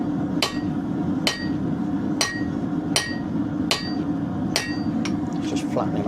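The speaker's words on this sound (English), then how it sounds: "And a bigger hammer." A blacksmith's hammer striking hot steel while forging a knife, seven evenly spaced ringing blows about one per second, loud and close over a constant roaring forge hum.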